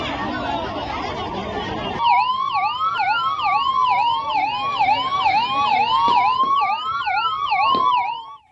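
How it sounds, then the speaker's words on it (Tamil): Several ambulance sirens wail loudly in Chennai after an air show, their rising and falling tones overlapping continuously over low traffic rumble. "தவிர ஆம்புலன்ஸ் சத்தங்களுக்கும் குறைவில்லை."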